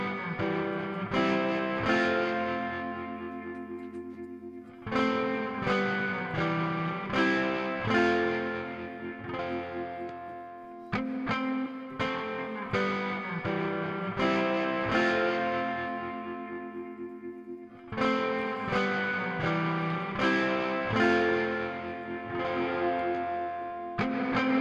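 Music mix drenched in reverb with tempo-synced pre-delay and a triplet-timed delay, repeated chords and notes trailing off into washy echoing tails that swell and decay in rhythmic phrases.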